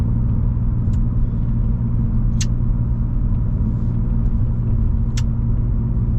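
BMW F80 M3 on the move, a steady low engine drone with road rumble inside the cabin, loud and continuous, with a few faint ticks.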